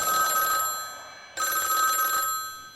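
Telephone ringing in two bright electronic bursts with a short pause between, each ring a loud warbling trill close to the listener, with no talk.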